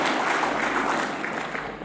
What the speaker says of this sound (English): May we greet their election through a big round of applause and acclamation.